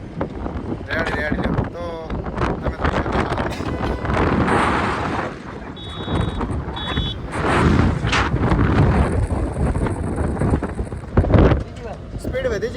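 Strong wind buffets the microphone in steady gusts on the Jaisalmer road in the Rajasthan desert, with a passing roar of traffic and a voice talking now and then.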